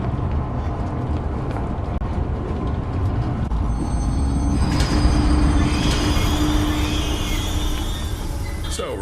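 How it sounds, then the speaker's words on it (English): Rumbling train in the video game Zoochosis moving along the track, growing louder midway with a high metallic whine and squeal, a steady low roll underneath. "start the train"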